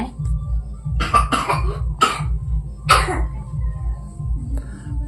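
A small boy with a fever coughs in several sharp bursts, a quick cluster followed by two more separate coughs, close by over a low rhythmic background hum.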